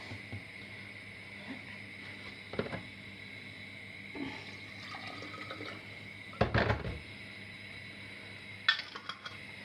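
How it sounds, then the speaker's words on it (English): Kitchen tap water runs into an empty passata bottle to rinse it out, a faint steady trickle with a few louder splashes and sloshes as the bottle fills and is handled nearby. "I'm going to rinse that bottle out"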